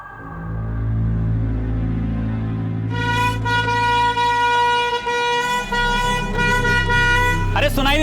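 A vehicle horn sounds loudly and continuously over a low engine rumble in a street scene, with layered honking tones joining midway.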